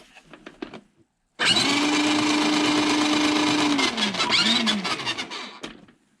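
Electric motor of a 1/8 scale Double Eagle E328-003 RC Land Rover Defender crawler run at full throttle: a loud, close, steady whine starts abruptly, wavers and drops in pitch, then tapers off.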